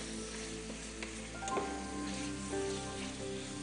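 Onion frying in a pan gives a soft, faint sizzle beneath a steady low hum and tonal background noise, with a brief louder clatter midway.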